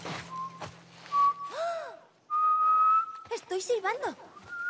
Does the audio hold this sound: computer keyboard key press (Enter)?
no